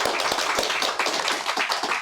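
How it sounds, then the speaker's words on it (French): Applause from a large studio audience at a live Japan-themed broadcast, a dense run of clapping that holds steady and fills the room for the whole stretch. "Ils peuvent applaudir puisqu'en fait ils sont nombreux ici."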